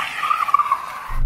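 A Tesla Cybertruck launching hard from a standstill, tires squealing in a sharp, loud, wavering screech that lasts about a second before cutting off.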